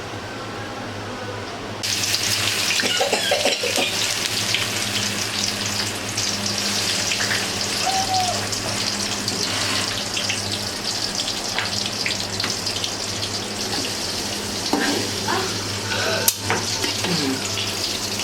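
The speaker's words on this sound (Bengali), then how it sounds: "আচারের তেল গরম হচ্ছে, এখানে আচার ছেড়ে দেওয়া হবে। এই আমগুলোকে এখানে ছেড়ে দেওয়া হবে।" Mango pickle pieces drop into hot oil and erupt into a loud, sustained sizzle that starts abruptly and hisses steadily, with faint background murmur.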